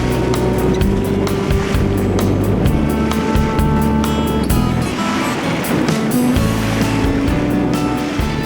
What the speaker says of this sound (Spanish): lo único que Carlos encontró allí fueron las embestidas de las olas de un lago